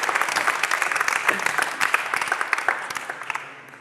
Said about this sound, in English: Yeah, clap it up for me.